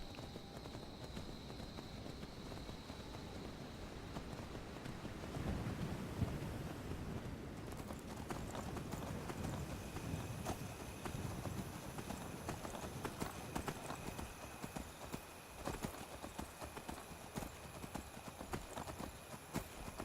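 Steady clip-clop of horse hooves at a trotting rhythm in a video game (Skyrim Special Edition, Requiem mod), continuous and fairly close, with a faint tonal background and occasional low rumble.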